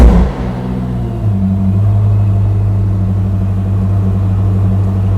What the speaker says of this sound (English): Now this is a cold start, so we won't be doing anything daft